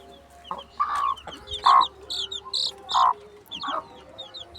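Chickens at a hen coop clucking: several short, bright clucks in a loose rhythm, fairly close and clear over a quiet background with no talk.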